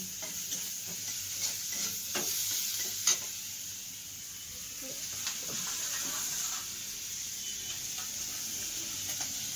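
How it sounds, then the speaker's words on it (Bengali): Red lentil dal being tempered in a hot pan gives a steady, faint sizzling hiss with scattered light ticks and stirring clicks throughout, and a single sharper clack partway through. "ডালটা খুলে নিচ্ছে, ডালটা ফোড়ন দেবে।"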